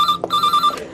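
A telephone bell rings behind the bar of a pub, two clear electronic trills split by a brief pause, loud and close with no voices.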